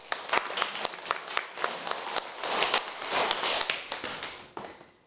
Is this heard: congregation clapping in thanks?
yes